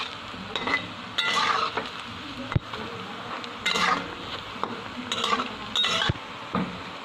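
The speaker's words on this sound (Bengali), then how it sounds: "দেখুন এগুলোকে ভালো করে ভেজে নেব। এইভাবে লাল লাল করে আমি ভেজে নেব" Pantua sweets deep-frying in oil in a kadai, a continuous close hiss and bubbling broken by intermittent scraping stirs from a utensil, with no talking.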